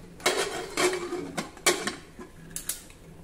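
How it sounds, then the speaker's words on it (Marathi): A pressure cooker lid is fitted and locked shut with a quick series of close metal clicks, clinks and short scrapes, fairly quiet and with no talking. "कुकरचं झाकण बंद करून घेऊ"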